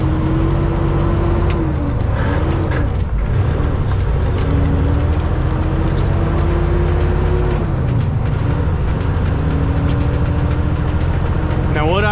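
Steady road noise from a busy US highway near a left turn, a continuous loud rumble of cars passing close by with a shifting engine drone, under faint intermittent talk.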